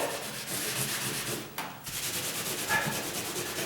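A painted condo wall being scrubbed clean of marks with Simple Green cleaner, a steady close rubbing and scouring that pauses briefly midway before resuming.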